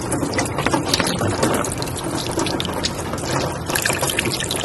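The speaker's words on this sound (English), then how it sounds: "as the water starts coming down again towards the back of the light" Water pours steadily onto the back of a car headlight in simulated rain, a dense continuous splashing and trickling hiss that stays loud and unbroken throughout.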